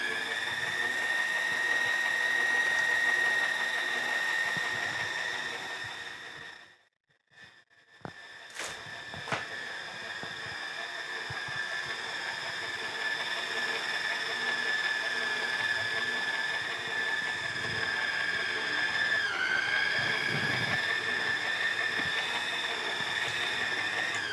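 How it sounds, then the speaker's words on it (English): An electric mixer on low speed works through cookie dough, giving a steady, fairly quiet mechanical whine with a faint ratcheting texture. It cuts out briefly partway through, then resumes and runs evenly to the end. "And then mix it on low so it doesn't throw flour everywhere."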